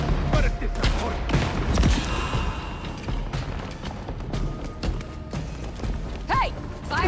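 Gunfire in the video game Vampire: The Masquerade – Bloodlines 2 crackles as a rapid, steady fusillade of shots with mechanical clatter, mixed with shouting voices and game noise throughout.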